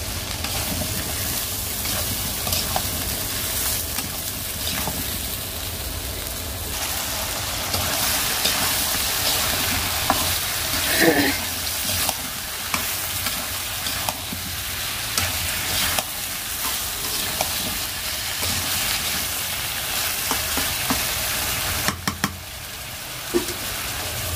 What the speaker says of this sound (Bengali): তো এই যে মশলা তো কষানো শেষ আমার, তো তরকারিটাও এখন দিয়ে দেব।